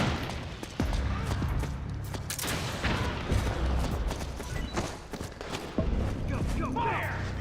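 Gunfire crackles in the stealth action game Metal Gear Solid 4 as scattered sharp shots and bursts come irregularly over several seconds, loud and close, mixed with shouted voices.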